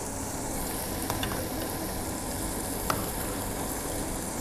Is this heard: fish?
yes